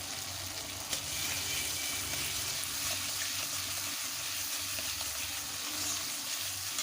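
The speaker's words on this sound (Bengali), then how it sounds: "এবারে দিয়ে দেব বেটে রাখা পোস্ত আর সর্ষে" Ground poppy seed and mustard paste sizzling as it goes into a frying pan of hot oil, a steady broadband hiss with a low hum beneath, no voices.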